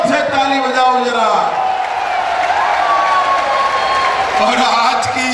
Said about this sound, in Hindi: अजय कुमार टहनी जी के लिए जोर से ताली बजाओ जरा।